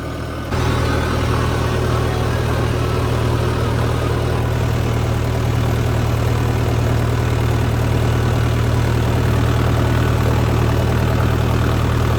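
A tractor engine idles on a farm, a steady, loud, close rumble with a deep low throb that carries on unbroken from start to finish.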